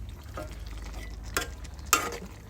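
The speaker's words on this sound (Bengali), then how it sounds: "ভাজতেছি তেলের মধ্যে।" Pieces of country chicken fry in hot oil with ginger-garlic paste, giving a low steady sizzle with a couple of sharp scraping stirs of a spoon against the pan.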